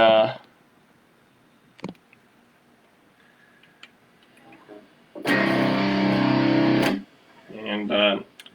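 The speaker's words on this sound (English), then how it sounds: "got distortion there, so you should be able to hear that" A burst of distorted electric guitar in drop C tuning rings out loud for about two seconds, framed by short bits of talking and quiet clicks.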